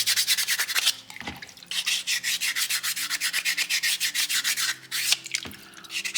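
Soapstone being smoothed by hand with coarse sandpaper, a steady run of close, loud rhythmic rasping strokes with two brief pauses, no voices.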